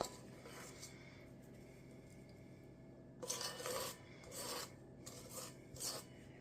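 A spoon scrapes thick s'mores casserole dough out of a bowl in several rasping strokes, close and moderately loud, following a quiet stretch with no talking.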